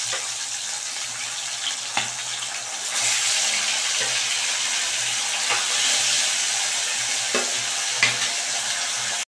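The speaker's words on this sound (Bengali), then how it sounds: "ঠিক সেমভাবে এই মাছগুলোকে এইভাবে ভেজে নিচ্ছি" Pabda fish fry in hot oil with a steady, moderate sizzle, broken by occasional faint clinks and stirring, with no voices.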